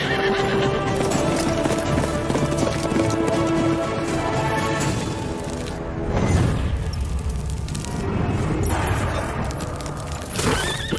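A horse whinnies and its hooves clip-clop steadily in a dramatic South Indian action film scene, dense and loud throughout with heavy surrounding effects and no clear talk.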